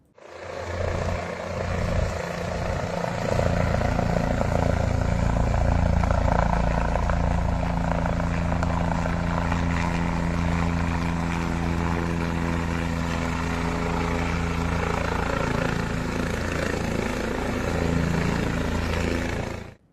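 A helicopter losing balance as it lands at a helipad in Raigad, Maharashtra, before crashing, gives off a loud, continuous drone of engine and rotor for about twenty seconds.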